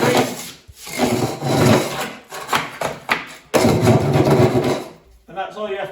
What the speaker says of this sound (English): If you've got any bits, scrape it.